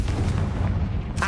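A Confringo blasting spell explodes in Hogwarts Legacy, a deep booming burst that rumbles loud through the short moment, with a brighter crackle at the very end.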